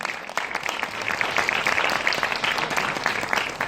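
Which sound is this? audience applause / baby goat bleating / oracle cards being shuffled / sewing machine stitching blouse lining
audience applause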